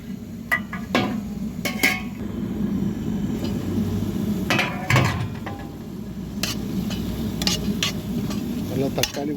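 Masala with tomatoes and green chilies for radish-leaf thokku is stirred in a pan, a close spoon scraping in repeated strokes over a low continuous sizzle, with sharp metallic clicks against the pan.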